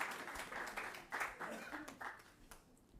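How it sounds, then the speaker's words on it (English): Audience applause at an academic forum workshop on the just transition, a few seconds of scattered clapping that rises and falls in bursts, moderately distant in a hall. "Can we give them a round of applause?"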